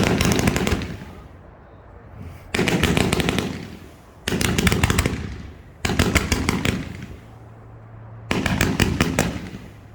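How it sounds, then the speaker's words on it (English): A 55-shot peacock red, white and blue fireworks mine cake fired at a demonstration, five loud bursts of rapid crackling volleys, each lasting about a second and a half, separated by brief quiet gaps. "This is going to be Module 2, Q3, Peacock Red, White, Blue Mine in 3, 2, 1, fire."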